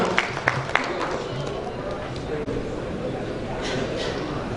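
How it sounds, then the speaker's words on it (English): Audience applause for a speaker at an IT conference in Odisha, steady clapping from a hall crowd lasting several seconds, with a few sharper individual claps near the start. "Can we have a round of applause for Mr. B.K. Sahoo?"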